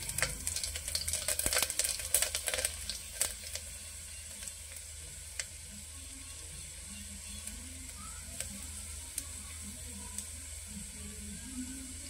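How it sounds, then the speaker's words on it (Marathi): Garlic cloves fry in hot oil with a steady close sizzle, busier and louder for the first few seconds, then settling into a quieter hiss with occasional small crackles. "लसणाच्या पाकळ्या सणसणीत झाल्या, तेजपान चटपट होईल आणि लाल मिरची चटचट होईल"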